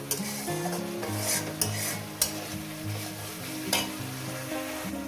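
Masala spices with salt sauté in a pan for an egg omelette dish, a spatula stirring and scraping in repeated sharp strokes over a steady close sizzle, with no talking.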